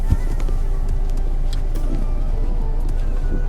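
Mercedes-Benz C220d diesel car driving on the Buriram race track, a steady engine and road rumble continuing throughout, with faint voices in the cabin.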